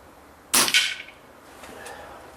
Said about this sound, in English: Shoots so nice, this rifle, it's unbelievable.